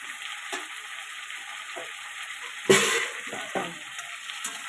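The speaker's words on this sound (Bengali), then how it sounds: "এবার এর মধ্যে আমি দিয়ে দেবো পরিমাণ মতো জল" Spices fry quietly in a pan, a soft continuous sizzle with faint stirring taps, until water goes in and a sharp hissing burst flares up, then settles back to a gentle bubbling fry.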